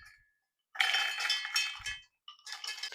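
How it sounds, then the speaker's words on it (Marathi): Cashews tipped into a steel mixer grinder jar make bright clinking and rattling in two close, separate pours, with short silences before and between them. "मिक्सरच्या भांड्यामध्ये आपण काजू ऍड"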